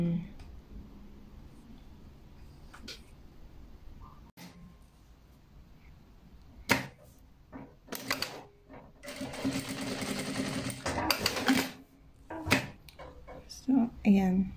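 A Bruce R5 domestic sewing machine runs in short whirring bursts of stitching with reverse stitches, the fast needle chatter rising and stopping several times alongside mechanical clicks, while a person talks quietly between runs.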